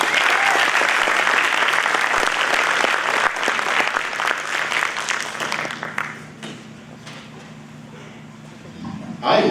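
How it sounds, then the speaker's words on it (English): An audience applauds at a school winter band concert: loud, dense clapping from a crowd that holds for several seconds, then thins out and fades to scattered quieter claps. "Another round of applause for Mr. Byers, please."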